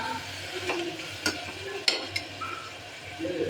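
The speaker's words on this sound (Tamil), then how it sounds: "சேர்த்து நல்லா கலந்து எடுத்துங்க." Tomato, mint and coriander frying in a pan for banana flower biryani, stirred with a utensil: soft sizzling under a low background, broken by a few light scraping clicks against the pan.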